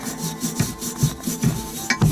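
A non-abrasive 3M pad with Simple Green scrubs a motorcycle exhaust header in quick, rhythmic back-and-forth rubbing strokes, close and fairly loud, with no speech.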